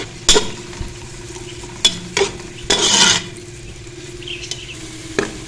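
Sliced onion softening in a pan for Punjabi kadhi, with a low steady sizzle broken by a few sharp scrapes and clinks of a spoon stirring against the pan.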